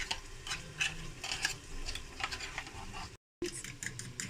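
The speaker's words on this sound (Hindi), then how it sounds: "फ्रेंड्स, हमारा जो मसाला है वो फ्राई हो रहा है, प्याज हमारा।" Onion masala fries in desi ghee while a spoon stirs it, with soft sizzling under repeated scraping and clinking strokes and a brief dropout near the end.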